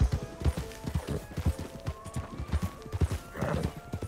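Horse hooves clip-clop steadily in the video game Red Dead Online, a quick, even gallop rhythm of hoofbeats over background game music, with a brief louder burst near the end.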